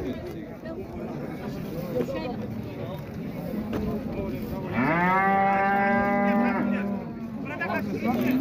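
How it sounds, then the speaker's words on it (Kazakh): A cow that has calved once moos once, a long low bellow that rises and holds, set among the murmur of a busy outdoor livestock market where people talk throughout. "Бір туған сиыр екен."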